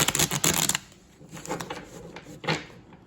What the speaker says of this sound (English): And we'll just shuffle one more time.